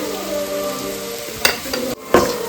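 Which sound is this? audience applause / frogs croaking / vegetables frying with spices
vegetables frying with spices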